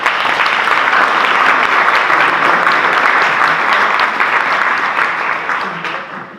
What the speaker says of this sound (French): Je leur demande quand même de les applaudir.